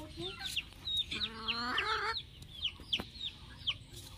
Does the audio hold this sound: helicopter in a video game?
no